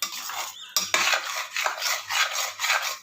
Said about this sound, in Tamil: கை விடாமல் கலரணும்